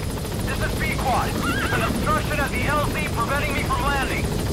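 A helicopter in the video game Metal Gear Solid V: The Phantom Pain gives off a steady rotor drone throughout, partly buried under people talking.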